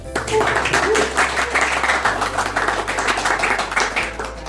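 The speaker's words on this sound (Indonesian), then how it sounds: "mari kita tepuk tangan dulu" Students clap their hands in unison at the start of a morning university lecture, a short burst of steady group clapping with a voice or two audible over it.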